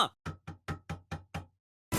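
Knocking on a door: seven quick, evenly spaced raps, close and crisp, followed by a short pause and a sudden burst of noise at the end.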